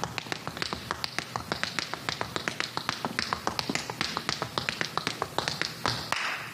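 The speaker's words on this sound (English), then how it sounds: "it's a toe, heel, draw back. And that's basically all it is, and just a rhythm" Tap dance steps in a toe, heel, draw back pattern, crisp close taps falling in a quick, steady rhythm of many rapid hits, with no talking.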